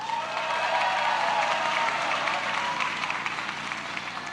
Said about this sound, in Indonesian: kita berikan aplaus Bang Bahlil Lahadalia